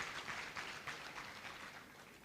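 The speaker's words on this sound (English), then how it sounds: "Let's give her another round of applause." Faint, distant applause from the crowd at an anniversary celebration, a soft, steady patter of clapping lasting a couple of seconds.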